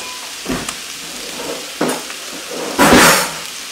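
Choripollo, a chorizo and chicken mix, sizzles in a pan with steady frying hiss, broken by three louder bursts as it is stirred, the last one the strongest.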